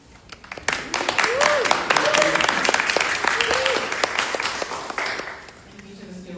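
An audience at a United Steelworkers event applauds and cheers for a speaker, with dense sustained clapping and a few shouts building and fading over several seconds.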